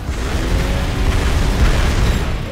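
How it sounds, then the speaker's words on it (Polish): A reactor explodes in the motorbike game Trials Fusion, a loud sustained rumbling roar of blast and debris that fills the whole stretch without letting up. "Oj, to jakiś reaktor widzę wybucha."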